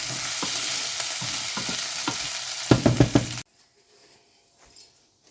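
Potatoes fry in a pan and are stirred with a ladle, bringing steady sizzling and several scraping knocks. The sound then cuts to near silence with one faint clink.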